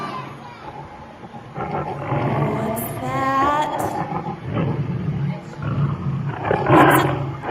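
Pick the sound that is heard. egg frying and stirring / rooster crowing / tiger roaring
tiger roaring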